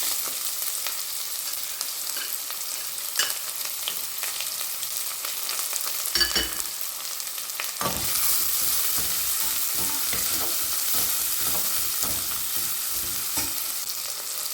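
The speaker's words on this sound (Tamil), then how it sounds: "இப்போது கருவேப்பிலை போட்டுடலாம் கூடவே வெங்காயத்தை சேர்த்துக்கிறோம்" Curry leaves and onions drop into hot oil for a mutton gravy, a steady close sizzle that swells into louder, denser crackling frying partway through, with occasional stirring scrapes and no voices.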